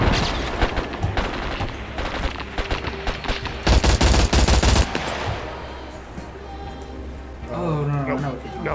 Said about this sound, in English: Some guy southeast shooting you.